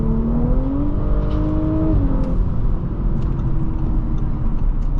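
A 2023 Audi S5 Prestige pulls hard, its engine note climbing in pitch over two seconds, then easing back as the gear shifts, under steady loud road and cabin rumble, close up with no talk.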